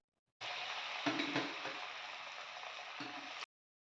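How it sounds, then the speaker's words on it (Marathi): Wheat flour coriander vadis frying in hot oil, a continuous soft sizzling hiss that starts and stops abruptly, with a couple of brief louder bursts, fairly faint. "सर्व वड्या मी अशाच प्रकारे तळून घेणार आहे"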